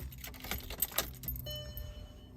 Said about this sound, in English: you could hear the fuel pump prime.